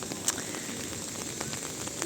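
Steady rain falls over a town square in Pescara, Italy, making a soft, even hiss with faint scattered patter close by, and no voices are present.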